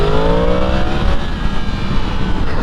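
A Yamaha MT10 motorcycle with an aftermarket exhaust roars steadily nearby, its engine note rising briefly and then holding loud and continuous.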